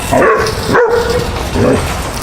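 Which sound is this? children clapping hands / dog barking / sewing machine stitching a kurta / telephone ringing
dog barking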